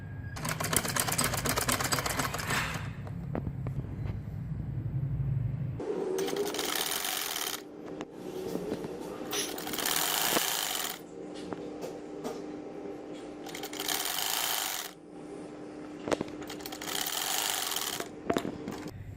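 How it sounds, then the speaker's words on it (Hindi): A domestic sewing machine stitches the shoulders of a baby frock made from leftover fabric, running in steady loud bursts of rapid chatter separated by short pauses, close up with no talking. "अब मैं कंधों की सिलाई करने लगी हूँ।"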